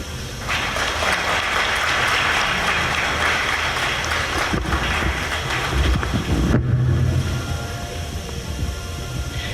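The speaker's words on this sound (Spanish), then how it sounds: "que se escuchen más fuerte los aplausos para los comentaristas de esta obra" Audience applause fills a book launch event, a steady broadband clatter of many clapping hands that carries on throughout, loud and sustained with a slight swell near the end.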